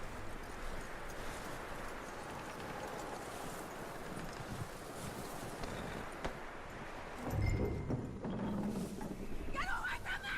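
Horse hooves clip-clop steadily in Red Dead Redemption 2, faint and distant beneath a soft wash of wind-like ambience, with a louder low thump partway through.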